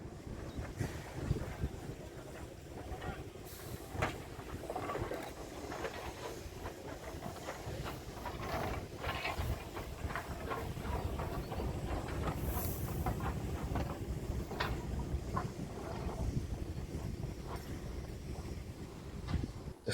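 A steam locomotive at the Tanfield Railway steam gala backs around a curve in the yard to couple onto a demonstration freight, a faint, distant rumble with soft chuffs, half buried under steady wind buffeting the microphone.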